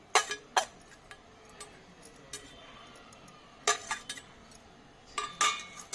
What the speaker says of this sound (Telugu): ఇది ఇట్లా కలుపుకోవాలి